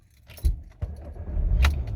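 Keys jangle and click as a Porsche Macan fitted with a Starline i96 immobiliser is started, a short metallic rattle followed by a starter whirr, close up with no speech.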